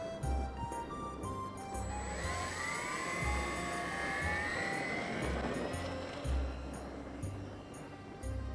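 A small hot-glue and duct-tape repaired RC foam airplane takes off in the wind; its electric motor whine rises and bends in pitch over low, gusty wind rumble and buffeting.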